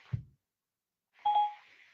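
Siri activation beep on a phone: a faint click, a short pause, then a single clear electronic chime, quiet and close.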